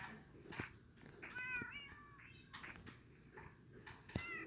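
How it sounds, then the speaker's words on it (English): A cat gives a few short meows, faint and fairly close, spaced over quiet background noise. "That's my cat coming down here."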